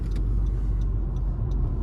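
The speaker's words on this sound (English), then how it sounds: "See, there is a car coming." A steady low rumble of a car engine and road noise, fairly close and constant, with faint higher ticks above it.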